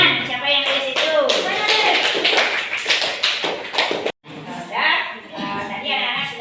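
Children in an Indonesian classroom clap together in a brisk, rhythmic burst of taps, close and fairly loud, with a teacher's voice and kids' chatter around it and a brief drop to silence near the end.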